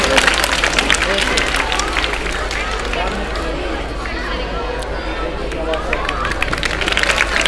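School debate audience clapping and cheering for student debaters, a dense, steady wash of applause and crowd noise continuing throughout.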